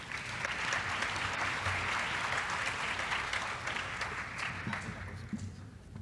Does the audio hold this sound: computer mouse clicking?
no